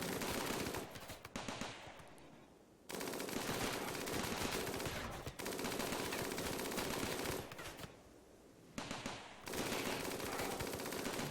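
Defensive turrets firing in RimWorld, producing loud, continuous bursts of rapid automatic gunfire that break off for short pauses before resuming, with no talking.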